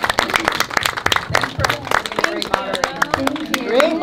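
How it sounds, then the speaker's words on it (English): Enthusiastic audience applause for a film-industry panel moderator, dense clapping from a crowd filling the room, steady and loud throughout with a few whoops rising near the end. "give her a big round of applause"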